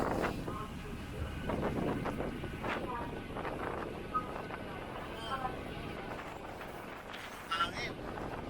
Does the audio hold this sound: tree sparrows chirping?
no